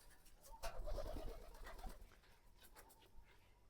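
Pigeons on a pigeon farm give soft, murmuring coos in a low, rolling cluster, swelling briefly near the start and then trailing off into quiet background rustle.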